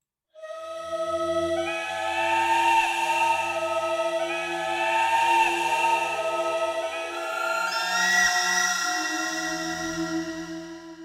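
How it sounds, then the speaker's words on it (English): A sustained, eerie death whistle sound effect from the Maleventum 2 library, a steady tonal wail with rich overtones that bends slightly in pitch, heard alone and clearly. "Original SFX Death Whistle."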